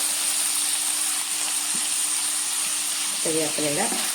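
Tomato and curry leaves hit a pan of sautéed onions with a steady close hiss of sizzling oil, joined near the end by a few short clattering stirs, with no talk.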